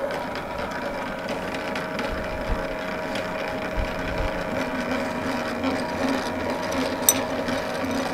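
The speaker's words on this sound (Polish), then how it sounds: "Ręce w kieszeni, maszyna wierci." A century-old electric drill runs steadily, grinding and whirring in a continuous, fairly loud mechanical drone with a faint ratcheting texture and a brief knock near the end, no voices over it.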